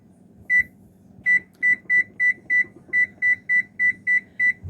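Preheated kitchen oven's timer being set, a series of about a dozen sharp, evenly spaced electronic beeps, each one pressed in quick succession, close and clear over faint room noise.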